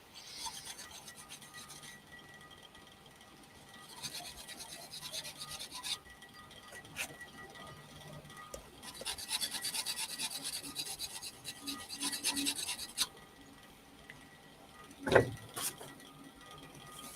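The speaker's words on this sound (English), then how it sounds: "that's how you sharpen them" A file rasps steadily along a blade being sharpened, with continuous scraping strokes at moderate loudness and one sharp knock near the end.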